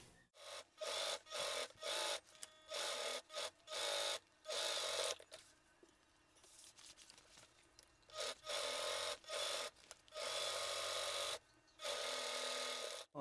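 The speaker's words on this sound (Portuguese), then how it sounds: "vou passar uma costurinha aqui para fixar o forro com o principal já, nessas duas laterais" A domestic sewing machine stitches a fabric lining to the outer fabric along the two sides of a boxy zippered cosmetic bag, running in repeated short, loud bursts separated by brief pauses, with a quieter stretch of handling noise in the middle.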